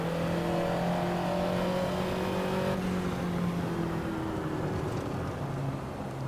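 Ferrari 288 GTO road car engine in Assetto Corsa, a steady droning hum with harmonic tones shifting in pitch as it cruises and gently changes revs, loud and close with no talking.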